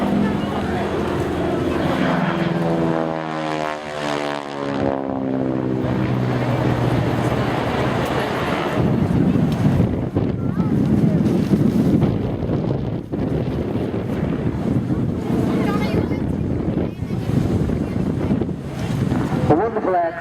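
A Harvard T4 training aircraft passes at an airshow, its engine sweeping by with a rising and falling drone, then roaring steadily amid heavy wind buffeting on the microphone.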